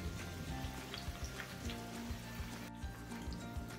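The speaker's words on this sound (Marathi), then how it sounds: "मीडियम फ्लेमवरती सावकाश अशा" Moong dal masala mathari fry slowly in oil over a medium flame, giving a quiet, steady sizzle with soft bubbling crackles throughout.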